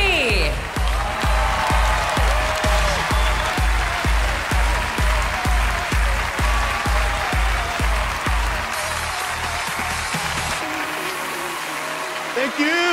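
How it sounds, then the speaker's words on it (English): Audience applause at The Game Awards 2021 as a presenter takes the stage, a loud, steady wash of clapping and crowd noise over a pulsing rhythmic music beat that fades near the end. "some noise for Reggie."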